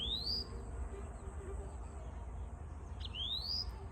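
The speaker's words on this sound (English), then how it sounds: "this wonderful, soothing, relaxing sounds of birds" Birds chirping outdoors: two bright rising chirps, one at the start and another near the end, over a steady low rumble of background noise, with faint softer calls between them.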